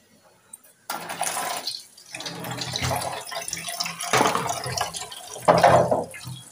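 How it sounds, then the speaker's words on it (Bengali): Dishes being washed under a running kitchen tap, with a steady rush of water splashing onto plates and pans and surging louder at moments, close by, with no talking. "থালা বাসন ধুয়ে নিচ্ছি।"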